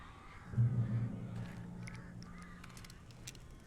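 Crow-like caws sound in the Alan Wake Remastered video game, a loud low call early on followed by scattered fainter cries over a dark ambient background.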